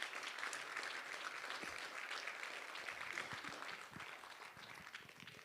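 An audience at a Sardinian literature prize ceremony applauds in a sustained round of clapping, steady and fairly distant, tapering slightly toward the end.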